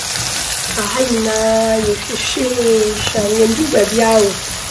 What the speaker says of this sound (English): If you add your curry powder to your coconut oil, the flavor it brings just enough